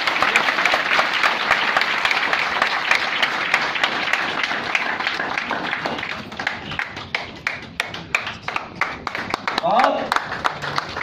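Audience at a motivational speech breaking into sustained applause, dense clapping that thins toward scattered claps near the end, with brief voices beneath.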